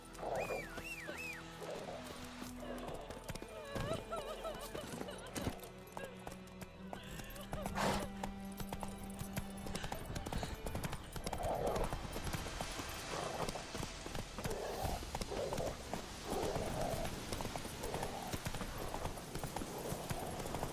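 Galloping horse hooves in The Witcher 3: Wild Hunt, a continuous fast clip-clop of hoofbeats under game music and ambient effects, carrying on steadily from near.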